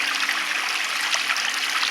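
Water running close by through the rocky stream of a natural pond, with rocks set to slow and redirect the flow: a continuous bright rushing trickle with no pauses and no voices.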